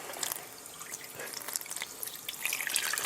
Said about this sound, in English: those holes that I was telling you about are causing all of the water to seep out